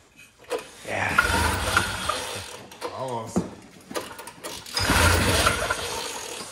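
Repeated ratcheting pulls on a snowmobile's recoil starter cord, the mechanism rattling and whirring in bursts near the mic while people talk over and between the pulls; the engine does not catch.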